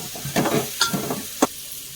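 Spoon stirring prawn biryani with biryani powder in a pan, giving a few soft scraping, sizzling strokes spread over two seconds, close and moderately loud with no talking.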